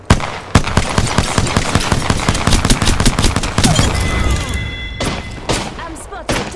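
Rapid automatic gunfire in the video game Apex Legends, dense close shots rattling for about four seconds, then a pause and a few heavier isolated blasts, with voices speaking over the fight.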